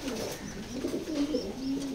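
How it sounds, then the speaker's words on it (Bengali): A large chocolate grizzle pigeon coos nearby in soft, repeated low throaty phrases, clear and unaccompanied by talk. "এটা চকো গ্রিজেল কবুতর"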